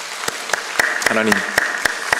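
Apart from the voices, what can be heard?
congregation applause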